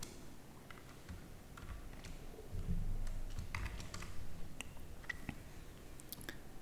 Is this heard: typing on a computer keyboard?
yes